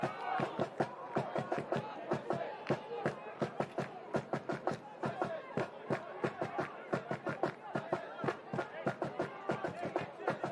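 At a college basketball game, the crowd and student section keep up a fast, regular beat of sharp claps or stomps with voices underneath, lively and sustained throughout.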